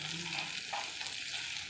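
Tomatoes and a green chili frying in a pan give off a soft, even sizzle, a quiet continuous hiss with no voice over it.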